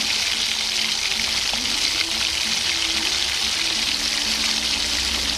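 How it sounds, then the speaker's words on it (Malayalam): Hot oil crackles and sizzles steadily up close as curry leaves fry, a constant bright spitting hiss with faint clinks of a pan. "അതൊന്ന് മൂപ്പിച്ചെടുത്തേ കറിവേപ്പില"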